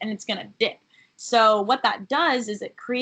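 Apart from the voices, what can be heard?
None of the usual background noises is heard.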